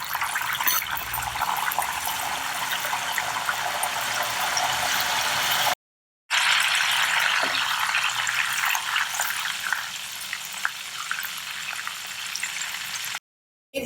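Banana slices fry in hot oil with a steady, dense sizzling and bubbling that runs continuously at moderate loudness, broken by two brief silent gaps.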